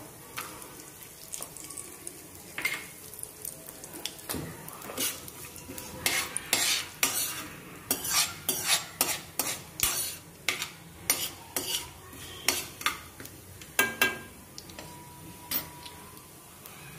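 Groundnuts tossed into a pan and stirred, a dry rattle settling into a steady run of sharp spoon-on-metal scrapes and clinks, close and fairly loud, with no voices.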